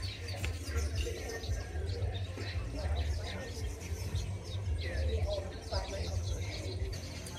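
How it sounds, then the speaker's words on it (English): Faint, scattered chirps of a bird calling at Hans Cottage near Cape Coast, Ghana, by the water, set in steady low outdoor rumble with people talking nearby. "This is a bird of some sort."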